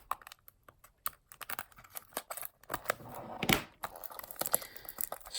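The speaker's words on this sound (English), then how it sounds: "Strip the polythene." Polythene wrapping is peeled off a 1:64 Tomica Suzuki Jimny diecast model. Close, crisp plastic crackles and rustles come in uneven bursts, with one louder crinkle midway.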